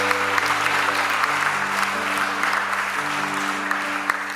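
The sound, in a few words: audience applause for newlyweds at a wedding blessing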